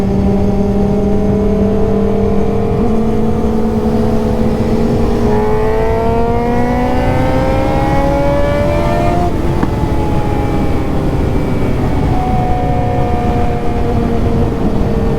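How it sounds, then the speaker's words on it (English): A stock-geared motorcycle pulls hard through the gears, its engine note climbing in pitch with each gear and dropping briefly at the shifts, loud and close throughout with no talk. "That's a 6th gear pull and he was in 4th."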